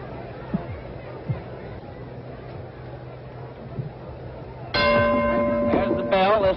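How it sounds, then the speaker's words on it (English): A boxing ring bell clangs near the end of a round in the 1957 Floyd Patterson vs Tommy Jackson fight, ringing out loud and sustained over crowd hubbub and commentary, with a second strike shortly after. "There's the bell."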